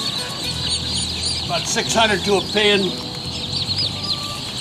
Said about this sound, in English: These are all Tom poults.